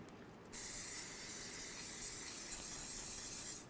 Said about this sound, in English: what we need to do is use a little bit of silicone spray